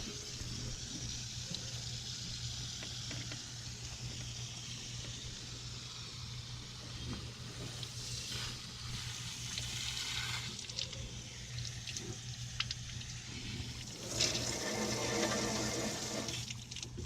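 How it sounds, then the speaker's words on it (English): Garden hose water running through the heater core of a 1996 Dodge Ram 5.9 V8 truck into a bucket, a quiet steady rushing and splashing with a low hum beneath, swelling louder near the end. "Now let's grab garden hose."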